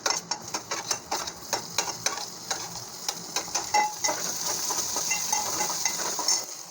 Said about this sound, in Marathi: ते देखील छान परतवून घेऊया आपण तेलामध्ये